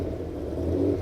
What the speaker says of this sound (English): you don't want to hide that beautiful V8 noise